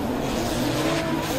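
A drift car slides through a corner in a competition drift battle at Val d'Argenton, engine roaring close and loud with tire squeal and skidding, sustained without a break.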